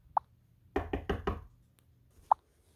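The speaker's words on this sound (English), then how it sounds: "I heard a knock at my door" A soft knocking on a door: a single rap, then a quick cluster of four knocks, and one more isolated knock in a quiet room.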